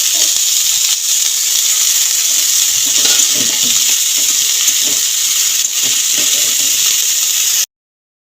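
Onions fry in a hot pan with a loud, steady sizzle and hiss that runs unbroken for several seconds, with soft stirring scrapes mixed in before it cuts off abruptly.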